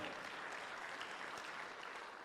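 Audience applause for a speaker at a men's event, a steady dense clatter of clapping held at a fairly even level for a couple of seconds, fairly faint and with no talk over it.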